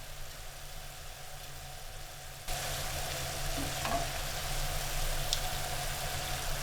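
Sauce for shrimp and grits boils and sizzles in a pan, a steady hiss that gets louder at about two and a half seconds, with occasional faint scrapes from stirring.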